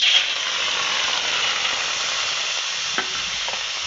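Chopped tomato pieces cook in a dry wok with no water or oil, giving a steady, close sizzling hiss throughout, with a couple of faint stirring knocks near the end.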